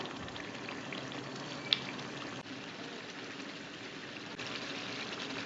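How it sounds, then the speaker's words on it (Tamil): Steady bubbling and sizzling from a pot of prawn masala boiling on the stove, a continuous close hiss with one brief clink partway through. "இப்போ நம்ம தண்ணி ஊற்றுனதுக்கப்புறம் நல்லா கொதிக்க ஆரம்பிச்சிருச்சு."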